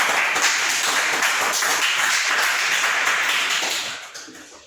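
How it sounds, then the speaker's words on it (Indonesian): Students clapping in a classroom, a dense, close burst of many hands that holds steady and then fades away toward the end, with no speech over it. "Tepuk tangan sekali lagi untuk kalian."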